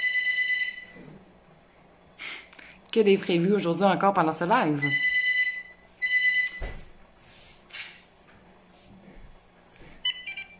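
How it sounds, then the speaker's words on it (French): A telephone rings with repeated electronic trill bursts, while someone speaks French in a home kitchen where apple, walnut and maple bread is being baked. "le téléphone qui sonne"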